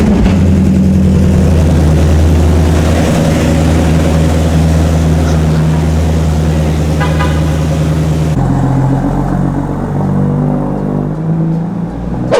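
A big turbocharged BMW engine roars loud and close, droning hard under load for several seconds before the tone shifts abruptly, as on a gear change, then keeps pulling; no talking.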